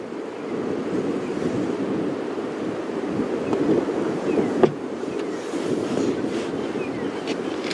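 Strong wind during a safari drive in open bush, blowing as a steady low roar against the microphone for the whole stretch, with one brief sharp knock partway through.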